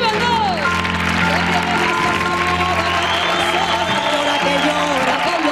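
A television audience applauds steadily while music and a sung melody carry on beneath the clapping.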